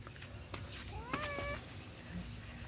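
A single drawn-out cat meow rises and falls at close range, over a steady low background hum with a few faint taps.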